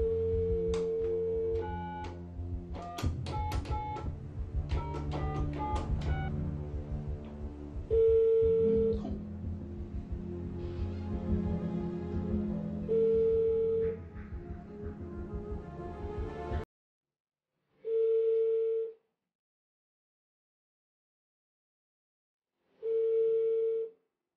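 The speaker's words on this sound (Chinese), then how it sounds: "可是十几年过去了，宋某的这个电话号码还能够打得通吗？" Phone call placed to an old number, heard as a quick run of dialing tones over background sound, then a repeated ringback tone in isolated bursts with silence between.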